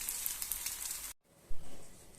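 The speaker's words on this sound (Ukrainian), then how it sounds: "тепер ще смажимо 2-3 хвилини на маленькому вогні" Oyster mushroom chops sizzling in a frying pan over low heat, a steady close crackle that cuts out briefly and resumes softer with occasional pops.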